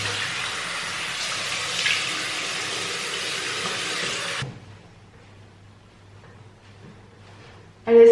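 Room-temperature water runs from a tap into a sink in a steady hiss for several seconds, then shuts off, leaving quiet with small drips before a brief loud knock at the end.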